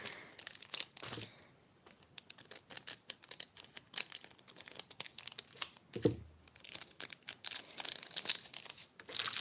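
A small plastic packet crinkles and rustles up close in irregular bursts, quiet between handlings and busier toward the end.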